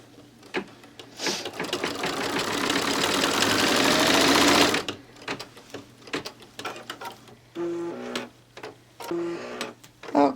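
An embroidery machine stitches a paper piecing line in the hoop, a fast, steady mechanical whirr lasting a few seconds, then stops, leaving clicks, handling noises and a few brief beeps.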